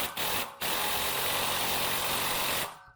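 Air-powered tool loosening a hood spring on a 1953 Buick, a loud continuous hissing whir that starts and stops twice in short bursts, then runs steadily for about two seconds before cutting off into quiet.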